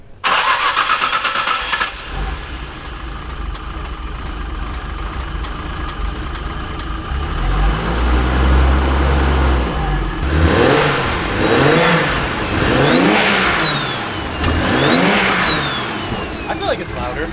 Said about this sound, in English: I'm gonna turn it on and rev it, and you might be able to hear a difference revving